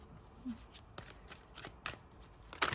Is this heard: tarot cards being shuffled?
yes